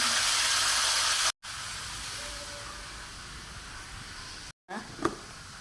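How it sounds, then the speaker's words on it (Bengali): Hilsa fish and roast frying in hot oil in a home kitchen, a steady close sizzling hiss that runs on with two brief cuts, faint voices around it. "রোস্ট ভেজে নিচ্ছি আর ইলিশ মাছ ভাজি করছি"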